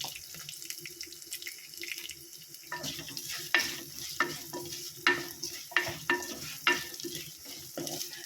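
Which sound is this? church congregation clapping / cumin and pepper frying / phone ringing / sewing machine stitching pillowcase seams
cumin and pepper frying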